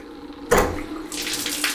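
Water suddenly gushes out of an opened shower valve during cleaning, a loud splashing burst that then settles into a steady rushing flow against a hand held beneath it.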